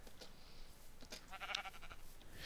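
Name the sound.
sheep bleating in Minecraft video game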